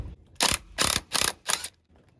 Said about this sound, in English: grab the impact gun, again 15/16 size, and loosen and remove that lock nut